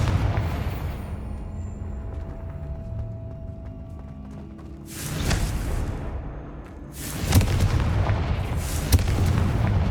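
Confringo fire spells burst in the game Hogwarts Legacy: two heavy, rolling booms land several seconds apart over a low rumble of ambient game noise and faint hoofbeat-like thuds, without speech.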